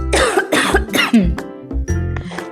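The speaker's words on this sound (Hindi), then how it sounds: "तड़का लगा के खांसी आ" Harsh, loud coughing fits break out in a kitchen after hot spices are tempered in oil, several bursts in quick succession with a throat-clearing rasp at the end.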